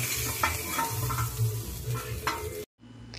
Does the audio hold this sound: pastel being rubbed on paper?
no